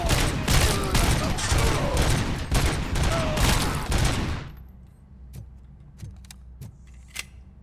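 Rapid automatic gunfire in the RoboCop: Rogue City game, a loud dense burst lasting about four seconds, then a few separate sharp shots and clicks against quieter background.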